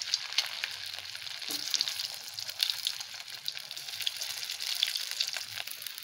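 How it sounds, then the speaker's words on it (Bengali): Boiled potatoes frying in hot oil with cumin seeds, a soft, steady hiss and crackle that holds evenly for several seconds. "জিরেগুলো লাল হয়ে আসলে আমি সেদ্ধ করে রাখা আলুগুলো একটু ভেজে নেব।"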